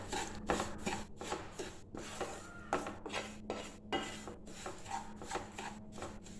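Roasted semolina is stirred in a pan over a low flame, a spoon scraping and rubbing against the pan in quick repeated strokes, close and steady with no voices.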